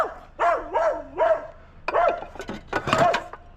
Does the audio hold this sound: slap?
no